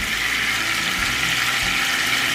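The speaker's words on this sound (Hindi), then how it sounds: "घी में पकाने के बाद हम इसमें डाल रहे हैं ठंडे पानी के अंदर" Grapes just fried in ghee go into cold water, giving a steady, close rush of splashing and churning water that continues without a break and with no talk.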